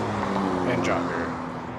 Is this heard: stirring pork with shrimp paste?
no